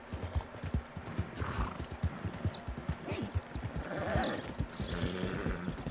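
Horse hooves clip-clop in a steady, close, fast rhythm during a ride in a video game, with occasional brief whinnies and scattered game sounds behind them.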